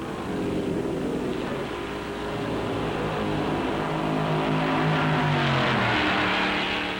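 A 1957 stock car roars past its pit during the Darlington Southern 500, a loud, sustained engine growl whose pitch swells and shifts as it passes close by, with no voices.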